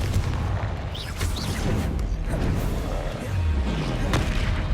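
Confringo fire spell explosions from the Hogwarts Legacy video game: loud, dense booming blasts and crackling bursts rolling one after another with no pause.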